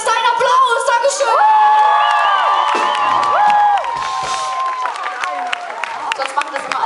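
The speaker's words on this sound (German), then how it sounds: "das ist dein Applaus" A concert crowd at a show in a club hall in Lyss cheers, whoops and applauds loudly and continuously, with shouting voices riding over the steady roar before it eases slightly.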